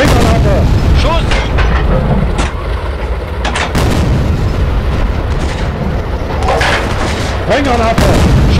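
Tank main gun firing high-explosive rounds in Steel Fury, Kharkov 1942, repeated loud booms over a rumbling engine, with shouted crew voices breaking in between the shots.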